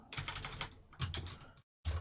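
Fast, close clatter of typing on a computer keyboard while writing Python code, in two quick runs of keystrokes split by a short pause.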